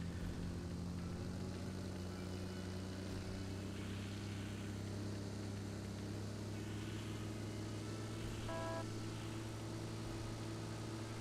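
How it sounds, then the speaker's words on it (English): Engine drone of a buggy driving in PUBG, a steady low humming motor sound running continuously at moderate level, with faint game effects layered on top and no talking. "Yeah, and he's got another vehicle. Sounds like it was a buggy."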